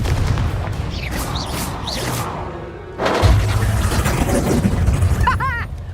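Blasting-spell explosions in the Hogwarts Legacy video game: several booming, crashing blasts with shattering debris, a quieter lull, then a heavier sustained rumble and a final sharp burst near the end.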